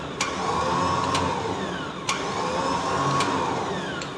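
Electric winch motor on a recovery wrecker runs in a steady whining drone, rising and falling slightly, with a few sharp clicks or clunks along the way; no talking.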